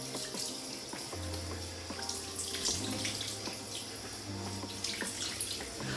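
Tap water runs steadily into a sink, wetting a hair system held underneath, a continuous close splashing rush with a low hum beneath and no talk.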